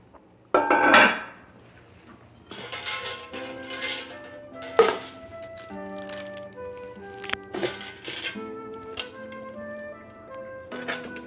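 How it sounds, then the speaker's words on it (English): A heavy metal roasting pan and its heavy lid are handled in a kitchen, giving a sharp clank followed by scattered knocks and scrapes, with quieter gaps and faint background sounds between them. "Like to use this heavy roasting pan with the heavy cover on it."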